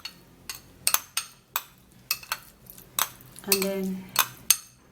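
A spoon clinks against a bowl while honey and red onion are stirred together, with a run of sharp, irregular metallic taps close by and a brief voice speaking partway through.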